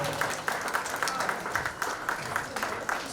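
Audience applause at a book launch for a new book, a steady patter of many hands clapping with faint room murmur and possible talk mixed underneath, moderately loud and sustained throughout.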